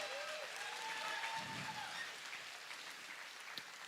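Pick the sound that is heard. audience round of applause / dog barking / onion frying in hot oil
audience round of applause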